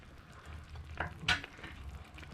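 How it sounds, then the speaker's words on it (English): Curry sauce for a Sri Lankan egg curry simmering in a pan, a quiet steady bubbling with a couple of soft, sharper pops and no talking. "my curry sauce has been simmering away there"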